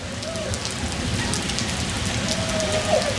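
Steady rain falls outdoors in a neighborhood where children play, a dense even hiss holding from start to finish with a faint voice and brief tonal sounds underneath.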